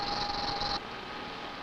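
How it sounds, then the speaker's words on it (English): A lathe turning in a fabrication shop gives a steady, even purr with a thin high whine that cuts off partway through, leaving a softer mechanical hum. "This is the purr of a lathe turning."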